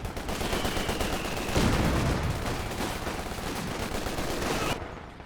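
Bren machine guns firing hard in a Company of Heroes 2 battle, with rapid overlapping bursts of automatic fire and heavier explosions mixed in, loud and continuous before cutting off abruptly.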